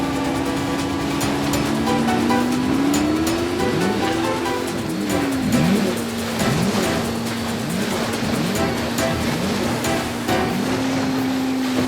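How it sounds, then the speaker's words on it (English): Offshore racing powerboat engines roar steadily at full throttle, a loud sustained drone whose pitch wavers and dips as the hull pounds across waves, with water rushing and slapping underneath throughout. "Vince, pull the throttles down."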